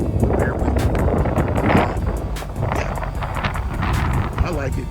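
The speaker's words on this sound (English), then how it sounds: "You guys are hearing all that wind." Outdoor wind buffets the microphone beside a BMW E38 in Huntsville, North Alabama, giving a continuous low, rough rumble that swells and dips in gusts for the whole stretch.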